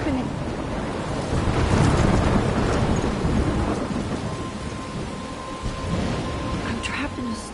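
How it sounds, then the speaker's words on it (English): Thunderstorm in the video game Life is Strange, with steady heavy rain and low rolling thunder swelling loudly through the middle, then easing into a continuous wet roar with faint tonal game sounds. "I'm trapped in a storm?"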